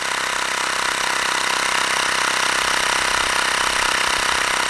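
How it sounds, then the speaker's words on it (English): A Xiaomi Mi portable air pump inflates a large bicycle tyre of roughly 27 to 29 inches, giving off a steady, loud buzzing drone that runs unbroken from start to finish with no speech. "So we're pumping this fairly big tyre here."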